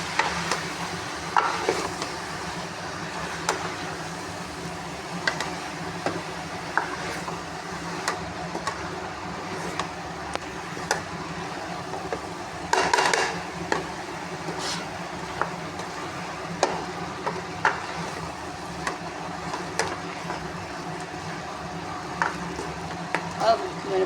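Spinach is stirred into potatoes and cauliflower frying in a pan: a low, steady sizzle runs throughout, broken by scattered clinks and scrapes of the stirring spoon at an uneven pace.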